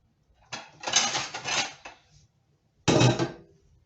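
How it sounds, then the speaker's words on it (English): Blueberries tumble into a blender for a smoothie in two quick, close rattling pours, a longer clattering spill followed by a shorter one, with no talking. "here go the blueberries"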